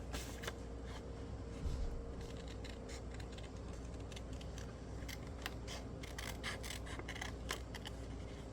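Scissors snip through cloth while cutting out an embroidered doll face, giving a steady run of close, quiet crisp cuts over low background noise.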